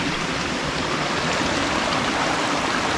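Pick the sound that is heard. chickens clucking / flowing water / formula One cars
flowing water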